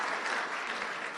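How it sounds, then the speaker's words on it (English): A steady burst of audience applause in a town board meeting room, even and moderately loud, with no voices over it. "let's give a round of applause to all three of you who were not first."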